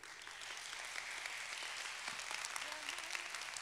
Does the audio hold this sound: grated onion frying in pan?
no